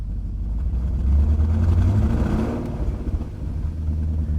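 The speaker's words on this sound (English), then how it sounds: "And listen to the engine." A BMW engine, just fitted with a new fuel pump and with its O2 sensors removed, rumbles close by and rises briefly as the throttle is blipped, then settles back to a steady low idle.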